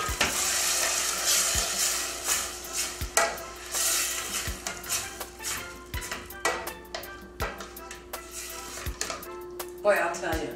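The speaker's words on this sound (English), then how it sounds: "I'm going to saute that for just a minute" Diced tomato sautéing in a pan for a swordfish hotpot, a continuous hiss of frying broken by regular knocks and scrapes of a utensil against the pan, up close.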